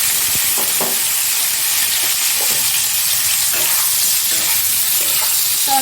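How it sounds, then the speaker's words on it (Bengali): Sliced bitter gourd, cut in thick pieces, fries in hot oil with a steady close sizzle and hiss that runs the whole time, with faint stirring clinks over it. "তো এখন আমি তেলের মধ্যে উচ্ছেগুলোকে দিয়ে দিয়ে ভেজে নেব।"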